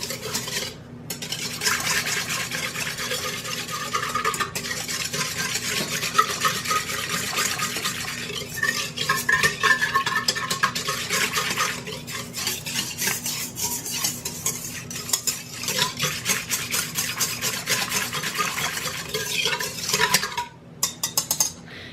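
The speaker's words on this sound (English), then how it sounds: "And you just want to whisk those together so that it activates the yeast." A whisk stirs warm milk, water, sugar and active dry yeast in a mixing bowl for Danish dough, making continuous close, rhythmic scraping and swishing against the bowl with faint clinks.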